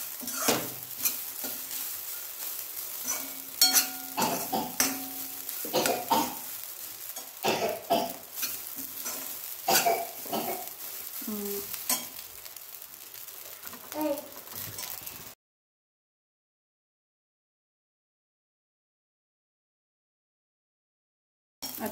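Rice is dry-roasted and stirred in a pan for Marathi rice kheer. Busy scraping, rattling and light sizzling continue for about fifteen seconds, with voices faintly in the background, then the sound drops to silence.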